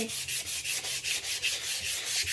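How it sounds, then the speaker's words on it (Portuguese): Hand sanding of a wooden pallet, quick rhythmic back-and-forth rasping strokes about five per second, close and steady with no speech. "Vou lixando, não precisa colocar muita força"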